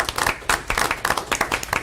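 A small group at a board meeting gives a short round of hand clapping, close and fairly loud, lasting under two seconds with no talk over it.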